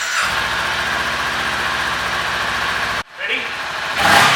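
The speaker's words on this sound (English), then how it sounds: "So let's start the bike." A Kawasaki Ninja 400 motorcycle engine running at a steady mid-pitched idle, cutting off briefly, then firing up again and settling back to idle, with a voice over it.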